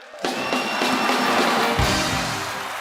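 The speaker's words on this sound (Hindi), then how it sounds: "पाजी के लिए जोरदार तालियां हो जाए" Studio audience on The Kapil Sharma Show bursts into loud, sustained applause, a dense wash of clapping that holds steady for a few seconds with no talk over it.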